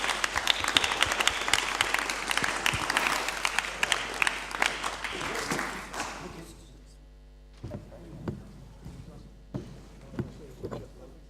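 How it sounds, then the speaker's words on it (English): An audience gives a panel a big round of applause, a dense burst of clapping that stops abruptly about halfway through, followed by sparse scattered sounds and murmuring voices. "please give a nice big round of applause to the panel"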